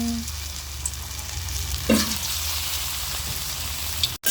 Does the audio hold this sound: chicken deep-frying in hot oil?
yes